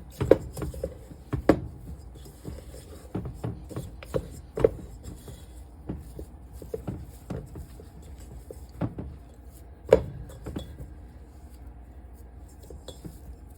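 A spatula scrapes the sides of a bowl of snickerdoodle cookie dough, giving scattered close knocks and clinks against the bowl with softer scraping between them.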